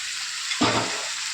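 Potatoes go into a hot pan of curry with a sudden, close sizzling burst that flares loudly and then settles into a softer hiss within about a second.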